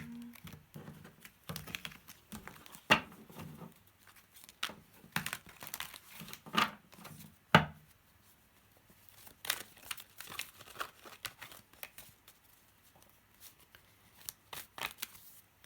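Soft, irregular shuffling of a tarot deck with papery riffles and crinkly flicks, some louder snaps, fairly close and with no voices.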